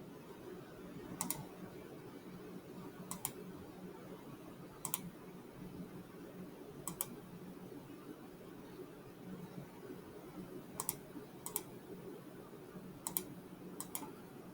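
Computer mouse clicks while drafting in AutoCAD, about eight sharp, isolated clicks spaced irregularly over a quiet, low room hum, some in quick pairs.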